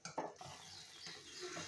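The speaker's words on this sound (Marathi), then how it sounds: "मध्ये मध्ये हलवत जायचं जरा आमटी" A spoon stirs golyachi amti, a spicy Marathi curry with dumplings simmering in a pot. There is a quick clink and scrape against the metal, then a low bubbling sizzle, all brief and close.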